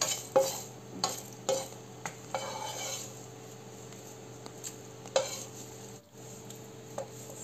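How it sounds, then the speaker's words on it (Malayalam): A handful of curry leaves dry-roasting in a pan, heard as soft scraping and stirring with occasional light clinks of a utensil on the metal, close but quiet, with no voices. "ഒരു പിടി കറിവേപ്പില എടുത്തിട്ടുണ്ട്. നമുക്ക് നന്നായിട്ട് റോസ്റ്റ് ചെയ്തിട്ട് എടുക്കാം."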